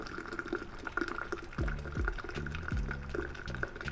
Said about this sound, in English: taking it off altogether and letting it just drip out